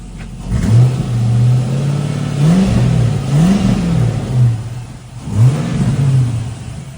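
A Holden Calais fitted with a new LS engine and carrying a big exhaust leak, revving in several rising and falling pulls over a rough idle, loud and close with a raspy, leaky exhaust note and no talk.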